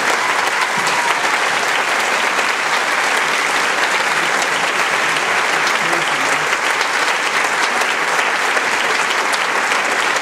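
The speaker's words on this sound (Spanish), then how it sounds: "Pasar un aplauso para ellos" Sustained audience applause fills a theater during a commemorative plaque unveiling, a dense, steady clapping that continues evenly for about ten seconds with no break.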